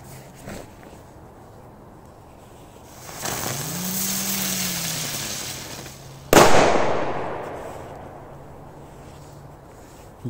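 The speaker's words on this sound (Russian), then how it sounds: "бросим розочку со взрывом" A spinning 'rose' firecracker thrown onto a road whirls with a rising, whistling hiss, then bursts in one sharp, loud bang that fades into a long echoing decay outdoors.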